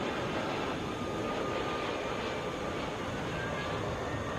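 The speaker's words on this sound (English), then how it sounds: "1073 coming in from Baltimore" Boeing 757 airliner arriving at Atlanta International Airport from Baltimore, a steady broadband engine roar heard from a distance, continuous and even.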